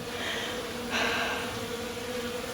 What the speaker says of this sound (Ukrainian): Чуєте, як гудуть бджоли?